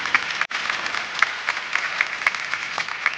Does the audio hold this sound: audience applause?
yes